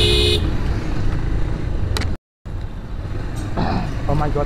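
Busy street traffic in Silchar town, with vehicles and tuk-tuks passing close by and short car horn toots cutting through a steady road rumble, as someone talks over the noise and the sound briefly drops out midway.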